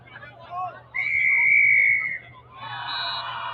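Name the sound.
rugby referee blowing his whistle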